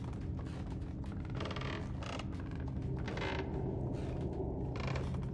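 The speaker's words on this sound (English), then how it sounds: "Oh, too much creaky noise." Loud, continuous creaking and grinding of a mechanism in Little Nightmares, with repeated bursts of ratcheting rattle over a dense low rumble, close and without pause.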